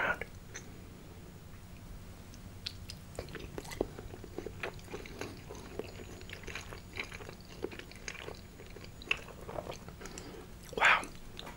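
Close, quiet chewing and biting of ravioli and meatballs at a Tuesday dinner, soft wet squishes and mouth sounds repeating steadily with one louder crunchy bite near the end.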